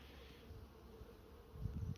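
Honey bees buzz faintly around an open hive during an inspection, a steady low hum with soft handling bumps growing near the end.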